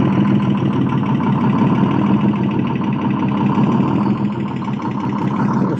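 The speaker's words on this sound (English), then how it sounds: "Listen to that sound. I love Detroit diesels." Detroit diesel engine idling steadily, a loud continuous low rumble with an even beat throughout, no voices over it.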